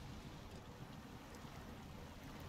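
A truck in the SnowRunner video game drives through river water in Michigan, a steady low rushing and churning wash of water with a constant rumble, no talking.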